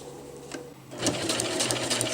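A sewing machine stitches along the side of a round zippered bag, starting with a brief whir and then running steadily and close with a fast, even needle patter.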